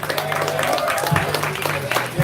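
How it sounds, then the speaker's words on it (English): Applause for visiting referees from Singapore at a powerlifting open, crowd clapping under amplified voices and a low hum in a hall. "Please give our referees from Singapore a big round of applause"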